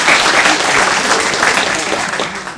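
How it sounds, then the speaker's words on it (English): An audience applauds a speaker in a loud, sustained round of clapping that fades slightly toward the end, with a faint crowd murmur underneath. "let's just give him a round of applause"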